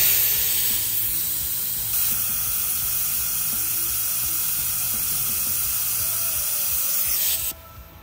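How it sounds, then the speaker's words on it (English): A JACO TrailPro rapid tire deflator lets air rush out of a tire in a loud, steady, close hiss that runs unbroken for about seven seconds and then cuts off abruptly. "The air hose features a built-in rapid tire deflator that has two modes, manual deflation, hands-free deflation,"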